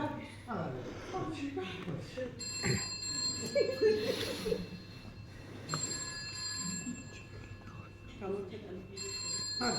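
A telephone rings in repeated, evenly spaced electronic bursts, fairly faint beneath ongoing conversation in an indoor drama scene.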